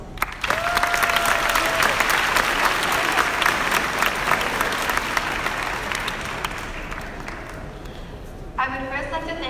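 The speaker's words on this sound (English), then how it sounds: "I think we deserve an applause." Sustained audience applause fills a 2019 graduation ceremony hall, dense and steady for most of the stretch, with a few crowd voices and a whistle-like tone early on, then a speaker's voice taking over near the end.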